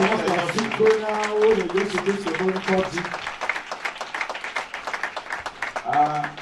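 Audience applause at a religious consecration ceremony, with broadband clapping running through the whole stretch, loudest from about three seconds on, while a voice speaks over the first half.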